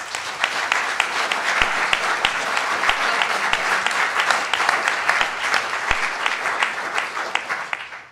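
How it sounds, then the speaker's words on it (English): A food and farming conference audience applauds the chairs and panellists, a loud, close round of clapping with sharp individual claps standing out from the crowd, fading slightly at the end. "can we have a round of applause for them, please?"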